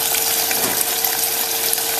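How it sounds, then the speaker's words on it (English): Steady, hissing sizzle of onion and garlic frying in hot oil, continuous and close, with a faint steady hum beneath. "I don't want it to really sizzle like that as much"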